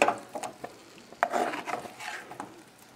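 A spoon works potatoes around a pan with pork loin and sun-dried tomatoes, making irregular scraping and soft clattering strokes over a faint frying sizzle.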